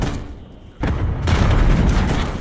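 A frag grenade goes off in a first-person shooter game, a loud deep blast that swells and rumbles on amid dense gunfire, with a brief dip before it hits.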